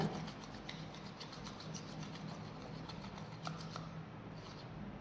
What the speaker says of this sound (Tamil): அதையும் அப்படியே சேர்த்து மிக்ஸ் பண்ணி விட போகிறப்ப இப்போ நல்லா அதை பேஸ்ட்டு எல்லாத்தையும் மிக்ஸ் பண்ணி விட்டுக்கோங்க